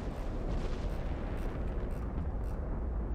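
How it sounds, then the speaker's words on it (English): Battleship big guns in Ultimate Admiral: Dreadnoughts roar in a dense, rumbling barrage that carries on without pause through the whole stretch, heavy and continuous. "Look at my big guns fire away"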